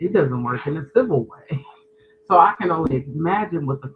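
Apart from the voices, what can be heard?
No everyday noises stand out.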